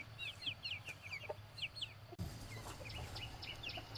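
Chickens cluck near a collapsed village coop, with quick, repeated, quiet clucks and chirps in short bursts over a low steady background hum, and no talk.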